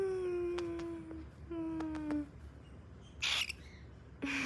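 Pet bird calling indoors with several drawn-out, tonal whistling calls followed by brief harsh squawks, close and fairly quiet against a soft room background.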